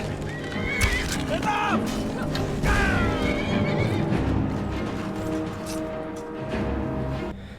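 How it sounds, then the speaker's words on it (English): Skyrim horse neighing and whinnying loudly, with the clip-clop of galloping hooves running underneath; someone talks over it throughout. "Look at the horse go!"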